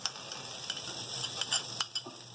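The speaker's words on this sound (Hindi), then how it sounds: "इसके अंदर हम ऐड करेंगे हमारा देसी घी" Desi ghee sizzles in a hot handi while chicken makhni handi is being prepared, a steady close crackle with a few sharper pops and stirring scrapes, with no voices over it.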